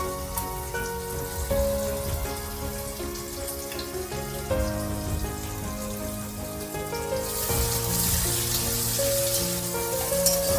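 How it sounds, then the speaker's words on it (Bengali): Onions fry with chopped garlic in a pan, a dense, steady sizzle and crackle that stays loud and close throughout, swelling slightly toward the end. "পেঁয়াজটাকে আমি একটু ভেজে নিচ্ছি"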